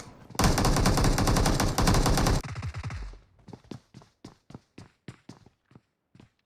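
Rapid automatic gunfire from a battle royale video game roars loudly for a couple of seconds, then gives way to a steady series of separate single shots or footfall-like thuds spaced evenly apart.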